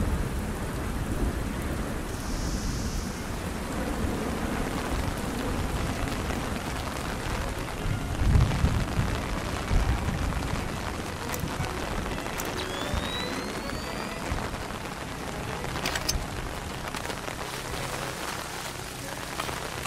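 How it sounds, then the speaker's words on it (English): Video game rain in Splinter Cell: Chaos Theory, lighthouse level: steady heavy rain pours continuously, with low rumbles of thunder rolling in partway through and no voices. "Man, it's really raining."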